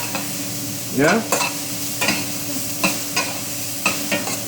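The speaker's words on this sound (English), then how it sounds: "And I'm going to saute the leeks." Leeks sautéing in a pan for a fish pie, a continuous loud sizzle broken by repeated scraping stirs, with a brief voice near the start.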